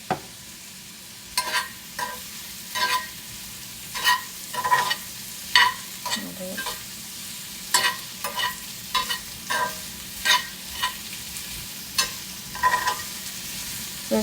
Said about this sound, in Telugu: తిరగమాత వేయాలి